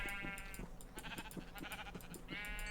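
Sheep in the video game Minecraft bleat close by, two drawn-out bleats framing a stretch of quick, choppy clicking sounds, all moderately loud.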